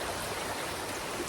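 Steady broadband rush of water flowing near a campsite on the Appalachian Trail, constant and moderately near with no talking.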